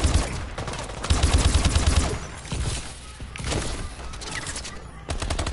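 An LMG machine gun in Call of Duty: Advanced Warfare fires in long, continuous automatic bursts, loud and dense, with brief lulls between strings.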